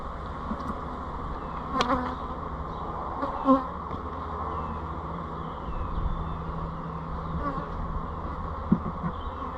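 Honey bees buzz in a continuous, dense drone around open hive boxes while bees are shaken down to make nucs, with a few brief knocks and clatters of equipment close by and no speech.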